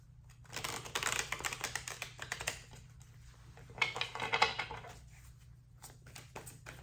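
Quick bursts of crisp, papery riffling as a tarot deck is shuffled, two shuffling passes separated by a short pause, close up with no talking.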